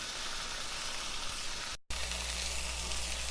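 Cilantro lime chicken sizzles in a Princess House 10-inch nonstick skillet, a steady close frying hiss broken by a brief dropout, then resuming with a faint low hum beneath.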